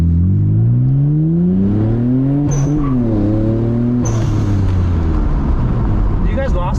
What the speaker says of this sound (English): Damn, that blow-off valve, dude.